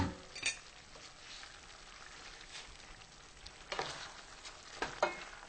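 Shrimp and pasta sizzle quietly in a pan over high heat, a soft steady frying hiss punctuated by a few light clinks and stirring taps.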